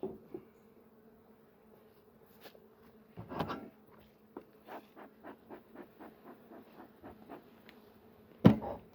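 A steady low buzzing drone of bees in an opened hive runs throughout, joined midway by a series of regular tapping clicks and a sharp knock near the end.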